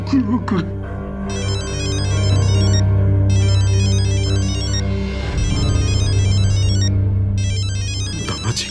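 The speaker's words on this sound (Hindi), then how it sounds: "फोन।" A phone's electronic ringtone trills in repeated bursts with short gaps between, loud and close over a steady low hum.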